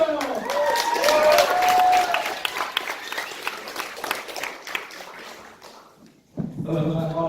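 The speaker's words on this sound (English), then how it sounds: "I want to give a round of applause for Neil" Applause at a university launch event, building under a speaker's voice, fading and thinning out, then giving way to a single voice talking.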